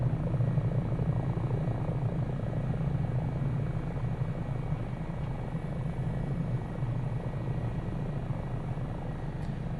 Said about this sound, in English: Looks like I got me a new helicopter.